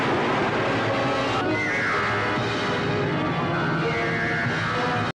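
An old VHS production logo plays a horse's whinny twice, drawn out and wavering, half buried in a dense, roaring wash of noise that cuts off abruptly at the end.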